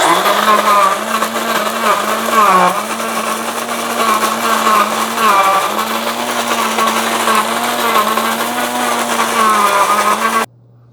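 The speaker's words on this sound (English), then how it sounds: "Okay, so I'm going to move this all the way to coarse. Let's do a coarse grind." A Mr. Coffee 12-cup automatic burr grinder set to coarse runs with a loud, steady motor whir and gritty grinding of coffee beans, continuing for about ten seconds before stopping abruptly.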